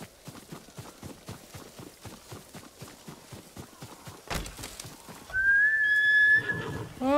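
A horse trots in the video game Ghost of Tsushima, hooves clopping in a steady, even rhythm, followed by a sharp burst and a loud neigh, with no speech.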